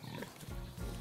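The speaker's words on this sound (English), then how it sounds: "What sound does the pig make?" A pig grunts and oinks in a short, continuous, close burst of snorting noises during a children's circle-time farm animal lesson.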